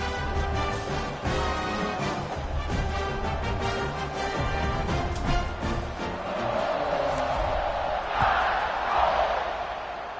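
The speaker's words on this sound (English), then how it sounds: "this crowd is buzzing after that last score" A stadium crowd in the College Football 26 video game murmurs and roars in a continuous loud buzz, rising into swelling cheers toward the end, with no commentary over it.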